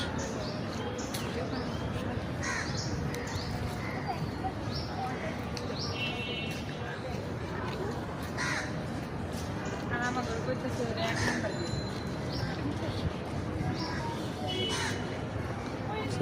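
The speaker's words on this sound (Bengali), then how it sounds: "পাখির আওয়াজ কিসের মিচির" Crows caw among other birds in a Gulshan park in Dhaka, repeated calls at mid distance, partly under people talking and footsteps.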